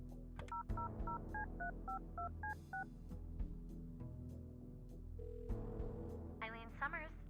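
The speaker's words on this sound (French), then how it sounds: "On va utiliser le téléphone." Telephone keypad tones beep in a quick sequence of about ten dialing presses in the video game Kathy Rain 2, with a sustained tone and ringing afterward over a low background music bed.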